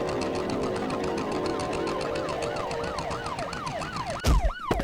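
Police siren in the farming game Farming Simulator 22, a loud continuous wailing tone rising and falling in steady cycles over a constant engine-like hum, ending in a sudden burst of rumbling.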